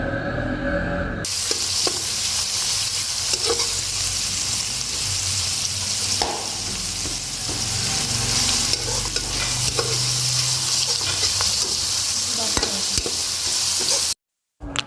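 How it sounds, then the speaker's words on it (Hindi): Chopped onions fry in a pan for a qeema karela dish, a steady loud sizzle with frequent stirring scrapes and clinks throughout, close and continuous, cutting off abruptly just before the end. "अब प्याज जो है भाभी इसको अच्छे से फ्राई कर रही हैं।"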